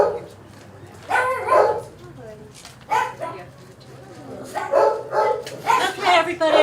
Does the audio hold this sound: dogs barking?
yes